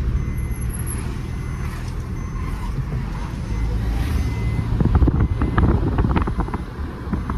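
Trucks rumble past on a winding ghat road near Wai, a heavy broadband roar with wind buffeting the microphone, swelling louder and closer in the last few seconds as a vehicle passes.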